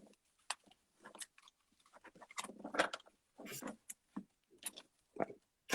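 Tarot card deck being shuffled by hand, with quick dry papery riffles and flicks in irregular bursts separated by short pauses, close and fairly quiet.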